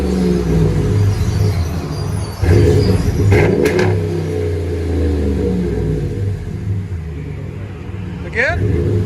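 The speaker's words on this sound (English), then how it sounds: "That 40 series never disappoints, man. They always sound good on those." A 2019 RAM 1500 pickup with the 5.7L Hemi V8 and a Flowmaster 40 Series dual exhaust idles with a deep, loud rumble and swells in a sharp rev near the start, while someone speaks briefly near the end.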